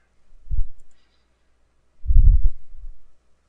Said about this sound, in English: we'll start by just left clicking on the line command